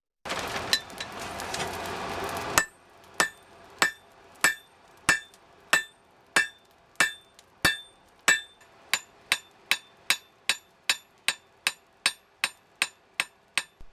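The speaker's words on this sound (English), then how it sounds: "it was then drawn out using a crosspeen and smoothed over" Cross-peen hammer striking steel while forging a knife from old rusty saw blades: a dense burst of blows, then a steady series of about twenty sharp, ringing metallic hits at a quickening pace, close and clear.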